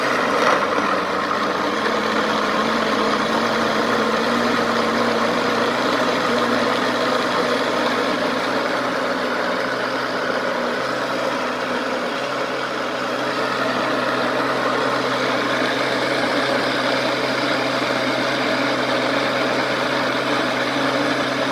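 A StarFrit personal blender runs steadily at speed 1, giving a continuous loud motor hum with a low droning tone and no breaks.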